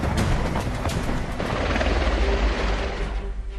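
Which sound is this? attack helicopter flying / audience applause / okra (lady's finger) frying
attack helicopter flying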